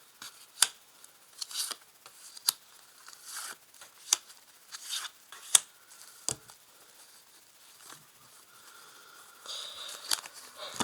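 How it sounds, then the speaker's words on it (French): Tarot cards being placed and handled, giving faint, scattered close-up slaps, flicks and papery rustles with quiet gaps between them, no talk. "Alors, je vais placer des cartes dessous."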